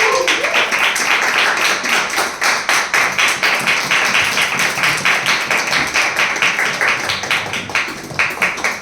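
An indoor congregation claps to welcome a preacher, with sustained, fairly close applause made of many rapid hand claps that fade slightly toward the end.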